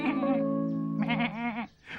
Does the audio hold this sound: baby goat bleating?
yes